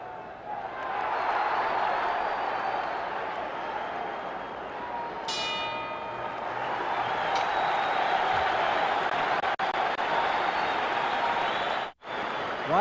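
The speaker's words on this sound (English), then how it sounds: "you can hear that tremendous roar in the background" A boxing arena crowd roars steadily through the Floyd Patterson vs Oscar Bonavena fight late in round nine, a dense sustained wash of noise from many people, with a bell sounding briefly partway through.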